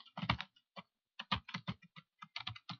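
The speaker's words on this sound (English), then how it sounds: "Can't type and talk at the same time." Quick bursts of typing on a computer keyboard, clustered keystrokes with short pauses, close and fairly quiet.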